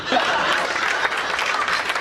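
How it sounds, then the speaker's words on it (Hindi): An audience breaks into applause, a dense wash of clapping that holds steady for the whole two seconds, fairly loud and close, with a faint chuckle mixed in. "ये ताली बजा रहे हैं"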